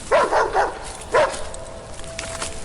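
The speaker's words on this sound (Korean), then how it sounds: "또다시 개 짖는 소리가 들리며" In a horror audio drama sound effect, a dog barks three times in rapid succession, then once more after a short pause, fairly close over a hiss of background noise.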